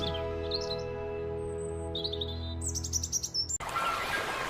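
Sparrow chirping in a fairy tale scene: bright, clear tweets and short trilled calls over a steady sustained music bed, a few close chirps clustered near the end before the music cuts off.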